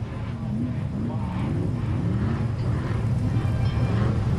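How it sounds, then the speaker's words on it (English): Off-road car on a qualifying course at Chocolate Thunder, engine revving and climbing in pitch with a rising and falling drone, fairly close, under faint background crowd noise. "there's some horsepower there, huh? That car sounds nice"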